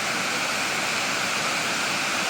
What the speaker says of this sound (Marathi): कसला वॉटरफॉल आहे मस्त असा